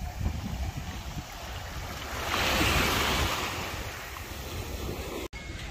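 Sea water laps at the shore of a hotel beach in Rhodes, Greece. It is a steady, close wash that swells to a louder surge midway, mixed with gusty wind on the microphone.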